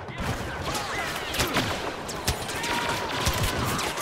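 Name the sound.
gunfire from Boba Fett's weapon in a video game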